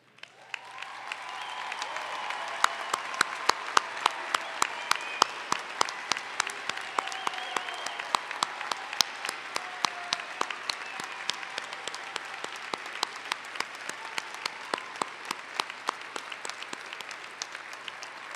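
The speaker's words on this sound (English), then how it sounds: "I'd actually like to have us give them yet one more big round of applause" An audience at a university commencement ceremony claps in sustained applause, with dense, crisp hand claps rising quickly and holding steady throughout. It is moderately distant, with no talk over it.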